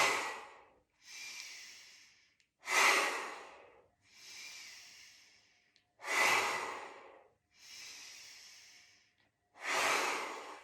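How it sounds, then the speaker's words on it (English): Forceful yoga breathwork, with strong rushing exhalations alternating with softer inhalations in a slow regular rhythm, four big outbreaths over about ten seconds, close and alone. "and out, strong exhalation"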